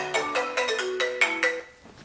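A mobile phone sitting nearby plays a bright melodic ringtone indoors, a quick run of clear chiming notes repeating briskly for about a second and a half, then fading to quiet.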